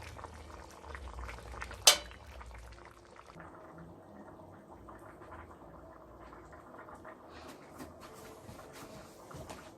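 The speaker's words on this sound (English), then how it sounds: "I am just putting in the small dumpling in the pot" A pot of Jamaican beef soup with red peas boils steadily as small dumplings are dropped in, a brief sharp clink near the start, then continuous bubbling and simmering close by with no talking.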